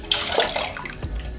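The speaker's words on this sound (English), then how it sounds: "we will add some cold water" Cold water pours over freshly boiled eggs in a pot, a brief steady splashing gush that dominates the short moment, close up with no talk.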